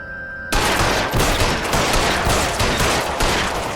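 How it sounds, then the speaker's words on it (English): Gunfire in a video game shootout at a house, a sudden loud burst of dense rapid shots that keeps going as sustained automatic fire, close and without talk. "I'm shooting at him."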